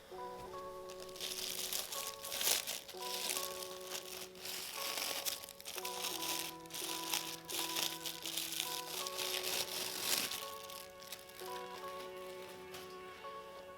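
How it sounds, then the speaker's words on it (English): A plastic covering is peeled off white shoes after a cleaner treatment, making soft crinkling and tearing rustles over quiet background music. "So we can peel this off and see what we're working with."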